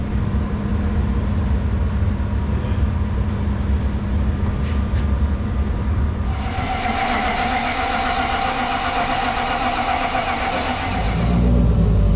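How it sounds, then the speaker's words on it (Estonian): A BMW parked in a garage starts up, its engine catching and settling into a steady mid-pitched idle with a brief rise in revs near the end, close and loud, with no talking. "Auto läks käima igal juhul väga hästi"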